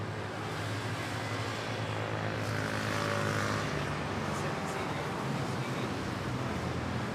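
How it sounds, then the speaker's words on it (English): Airbus A330 airliner at Manila Airport, a steady distant jet engine roar with a broad hum and a slight swell midway, fairly faint and continuous. "Yeah, Airbus A330."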